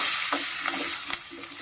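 A tempering of spices with asafoetida and coriander sizzles in a pan, a bright continuous hiss broken by a few short stirring scrapes and clinks, close up with no talk.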